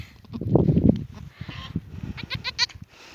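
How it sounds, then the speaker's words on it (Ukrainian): A goat bleats several times in short, wavering cries, loud and close, with some rustling and handling noise around them. "От, вередлива коза."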